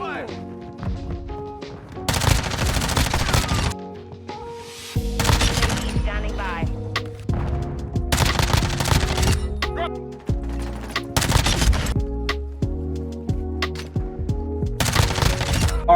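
MP5 submachine gun in Call of Duty Modern Warfare fires in repeated loud rapid bursts separated by short gaps, with game effects and a voice occasionally under the gunfire.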